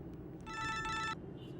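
An interior telephone rings with one short electronic trilling burst over a steady low room hum, fairly faint and with no one speaking.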